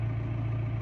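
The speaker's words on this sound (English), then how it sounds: "driving the tractor forwards" Steady low engine drone of a Massey Ferguson tractor running, a continuous close rumble with no talk over it.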